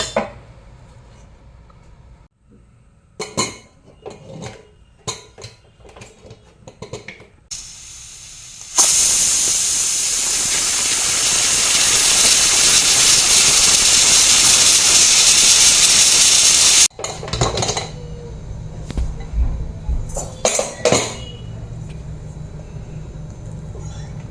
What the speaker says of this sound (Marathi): आता आपण याची एकच शिट्टी काढून घ्यायची जास्त नाही